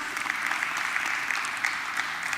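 An audience at a high-level international conference claps in a steady round of applause, a dense crisp patter with no voices over it.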